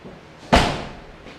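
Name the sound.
door of square body Chevy GMC truck shutting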